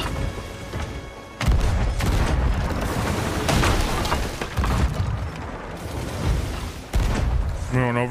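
Heavy cannon fire from a pirate ship battle in the Sea of Thieves video game, a series of loud booming blasts and thuds over several seconds, with voices talking throughout.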